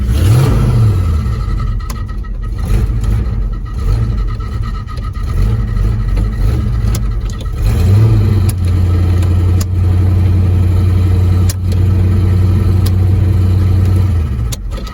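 A 1979 Chevy engine cranks over on its starter, loud and close, with repeated bursts of low churning rotation and a steady drone in the latter half.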